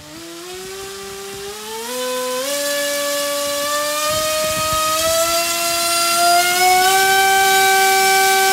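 An AR Wing RC plane's electric motor and propeller whine loudly during a throttle test, the pitch stepping upward in stages as the throttle increases.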